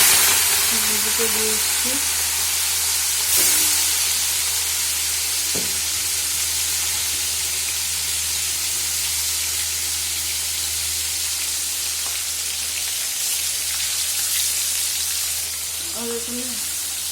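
Prawns frying in a pan in a home kitchen, a steady loud sizzle and hiss throughout with occasional stirring clatter and brief speech over it.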